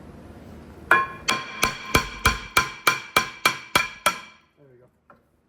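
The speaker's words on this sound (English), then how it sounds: "I'm gonna try my small hammer, see if that will move it a little bit" A small hammer knocks repeatedly on a stuck rear brake rotor of a 2011-2015 Kia Optima or Hyundai Sonata, about a dozen sharp, evenly spaced metallic strikes, close and loud, followed by a faint clink and a final hit.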